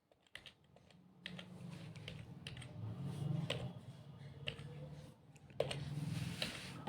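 Computer keyboard typing in short irregular bursts of key clicks while attendance entries go into a spreadsheet, with a low hum underneath and the clicks close and moderately loud.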